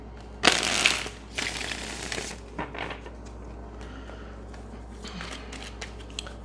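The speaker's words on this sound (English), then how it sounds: "Let's get one shuffle." A deck of tarot cards riffled and shuffled by hand, with two loud bursts of close snapping flutter followed by quieter rustles and taps, and no talking.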